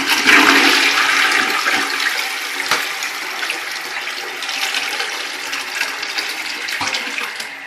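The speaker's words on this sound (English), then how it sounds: "What way do Australian toilets flush?" An Australian household toilet flushes, a loud, close rush of water that surges at the start and then churns and drains steadily for several seconds with no voices.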